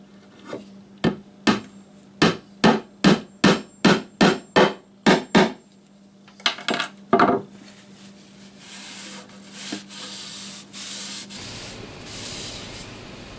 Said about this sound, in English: Drive it home with the hammer.